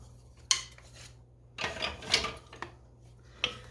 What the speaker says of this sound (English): I'm just going to stir this up till it combines really nice.